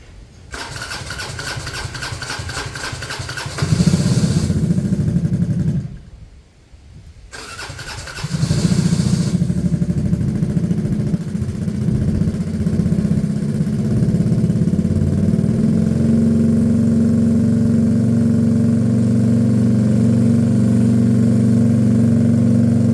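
A DNA 125 motorcycle engine cranks and catches briefly, cuts out for a moment, then fires again and settles into a steady, even idle that runs on loud and close with no talk.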